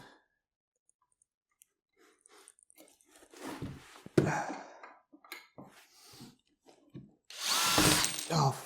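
A power drill drives screws into a workbench under construction, with short whirring bursts that build to a loud, sustained run near the end, broken by clicks and scattered sounds of handling.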